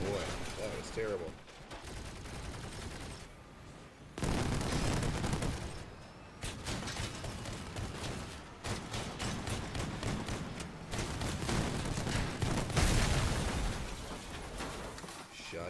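Shotgun blasts in a video game come in repeated loud bursts among other gunfire and explosions, with players talking over the action throughout.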